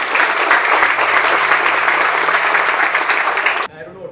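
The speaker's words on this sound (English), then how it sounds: "request all of you to give him a huge round of applause" An audience gives a big round of applause welcoming a guest speaker to the stage at a lecture, loud dense clapping that runs steadily before cutting off abruptly near the end, followed by a faint voice.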